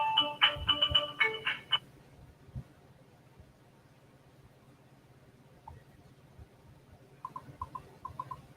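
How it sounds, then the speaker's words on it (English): A phone gives out a burst of bright electronic chirps and tones while someone texts. These are followed by quiet room noise, then a few faint, short beeps near the end. "I know y'all probably hearing me text, but it's the damn fucking phone"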